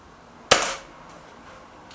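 A Hatsan AT44-10 air rifle fires a pellet with one sharp, close crack and a short fading tail, followed near the end by a faint second click; no talking.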